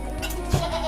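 A single short bleat from a fat, healthy long-eared male goat, close and clear over a steady background hum.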